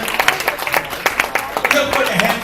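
Scattered audience clapping at a live comedy or music show, uneven claps under ongoing crowd noise and voices, moderately loud.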